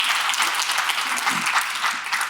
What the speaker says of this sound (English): Let's give Rob a round of applause.